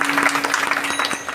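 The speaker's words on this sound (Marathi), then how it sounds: "सगळ्यांसाठी एकदा टाळी वाजवा सगळ्या." An audience at a Hari kirtan gathering claps together in a brief burst, uneven hand strikes close by with a faint sustained tone beneath.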